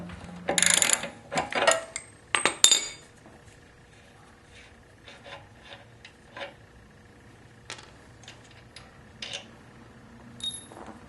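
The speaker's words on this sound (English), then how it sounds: "Hold the axle in place with a wrench. Then, loosen the axle nut and remove it." A wrench working loose the rear axle nut on a Harley-Davidson Softail, with several sharp metallic clanks and ratcheting clicks up front, then sparse lighter taps and clinks; close, no talking.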